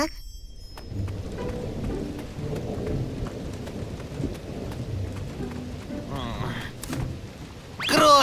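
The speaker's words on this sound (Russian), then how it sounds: "хороший дождь. И в лесу эти звуки похожи на музыку." Cartoon rain falling in a forest, a soft, continuous patter with low rumbles of thunder beneath, staying fairly quiet until a louder burst at the end.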